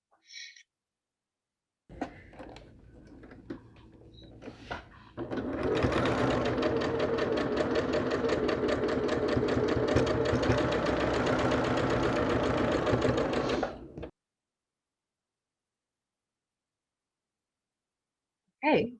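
A sewing machine stitches quilt block seams with a steady, close mechanical whir that runs about nine seconds after brief starts. Silence and faint sounds fall on either side of it.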